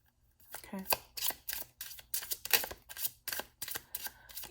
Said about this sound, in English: I'm trying to make sure I shuffle it on camera.